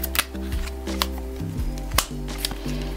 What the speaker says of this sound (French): je vous tire une petite carte de l'intuition